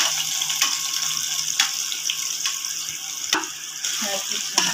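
Ginger garlic paste sizzles in hot oil in a pan, with a steady, close crackling hiss and scattered sharper pops and spatters over the whole stretch.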